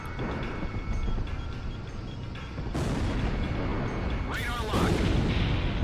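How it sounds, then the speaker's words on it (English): Aircraft guns fire in Ace Combat Zero amid rumbling engine noise, with sharp bursts cutting in near the three- and four-and-a-half-second marks while a player talks over it. "That's it for my specials. Aircraft guns."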